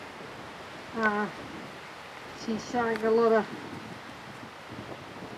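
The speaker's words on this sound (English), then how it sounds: "It's a very windy day." Gusty wind rushing steadily across an outdoor microphone, a broad airy roar under a person speaking a few words.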